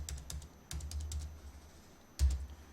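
Clicky taps on a computer keyboard, as arrow keys are pressed while moving through spreadsheet cells in an Excel class: a handful of sharp, close keystrokes spaced apart, the last one louder, with no talking.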